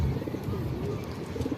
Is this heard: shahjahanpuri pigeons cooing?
yes